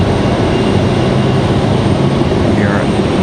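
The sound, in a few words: Air Canada airliner lining up for departure at RDU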